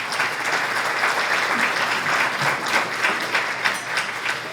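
An audience at an Ecuadorian investor and fundraising talk gives a strong, sustained round of applause, dense even clapping filling the room throughout.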